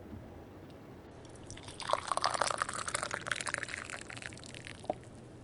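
Chai tea pours from a thermos into a clay cup, a close, soft liquid trickle with faint dripping, fading out near the end.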